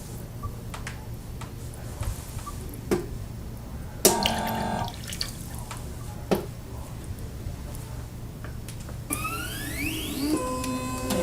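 A Barsys 2.0 bartender robot pours a drink, with a steady low trickle of liquid under soft mechanical ticks, clicks and brief whirring motor bursts, heard close up in a quiet room.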